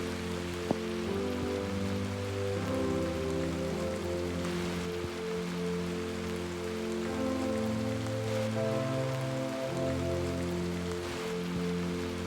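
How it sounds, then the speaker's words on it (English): Rain falls steadily at a log cabin building site, a constant close hiss of drops on surfaces that runs unbroken throughout, layered over a low droning hum. "We had one dry day and then the rain returned."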